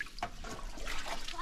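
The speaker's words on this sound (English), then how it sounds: "this is the roots. Wash it." Yaqona (kava) plant roots are washed in clean village water in Fiji, giving a brief burst of splashing and trickling water.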